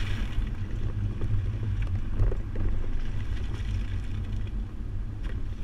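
A 2014 Buick Enclave with a Kuat NV 2.0 two-bike rack mounted drives through a slalom course, giving a steady, fairly loud rumble of road and wind noise with no talking.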